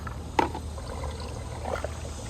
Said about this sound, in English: It's just siphoning all of the stuff out.